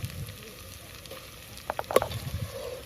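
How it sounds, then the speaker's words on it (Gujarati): Onion slices sizzling in hot oil in a pan, frying alongside chopped green chillies for dal puri, a soft steady crackle with a few sharper pops and stirring clinks near the middle. "ડુંગળીને આપણે તેલમાં થોડી વાર માટે ચડવા દઈશું"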